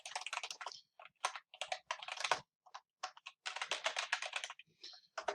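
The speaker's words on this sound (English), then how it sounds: "just type in appliance repair" Computer keyboard typing in rapid bursts of close clicks with short pauses between them, entering a search for appliance repair, with no talking over it.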